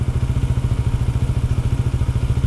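A motorcycle engine throbs in a steady, even pulse close to the microphone, a low rhythmic chug that holds without revving up or down.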